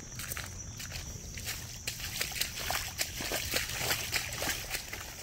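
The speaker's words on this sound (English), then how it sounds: "Oh, back in the water again over here." Someone wades through waist-deep water in the James River at Pony Pasture in a Richmond city park, with repeated sloshing and splashing strides close by against a steady background hiss.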